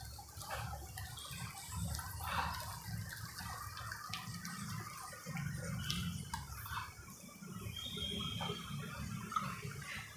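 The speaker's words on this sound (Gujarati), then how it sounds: "હવે આપણે થોડુંક પાણી નાખી અને એનું ખીરું તૈયાર કરીશું" Water poured into gram flour batter for Gujarati chilli bhajiya, a soft continuous trickle and splash with small clinks, fairly quiet and steady throughout.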